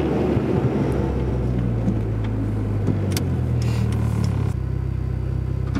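A Dodge SRT-4 engine idles loudly and close with a deep steady rumble, a brief rise in pitch partway through, then settling to a lower hum, with some wind buffeting.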